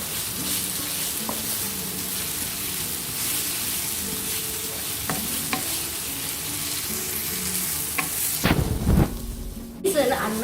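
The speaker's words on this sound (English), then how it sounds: "going to let this cook for 2 or 3 minutes till the oil separates from the onions." Onions sizzle steadily in hot oil for a Massaman chicken curry, a constant frying hiss with occasional stirring clatter and a louder scraping burst near the end.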